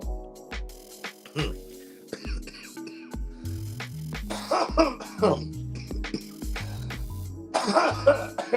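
Repeated harsh coughs burst out in quick clusters, close and loud, mixed with throat clearing and scattered talking.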